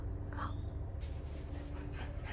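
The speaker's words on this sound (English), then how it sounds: "Deer running across the back in the sunset, Dash running after it, barking at it" Dog barking while chasing a deer across a backyard at sunset, a few brief yips and barks set against steady outdoor background noise, fairly distant and faint.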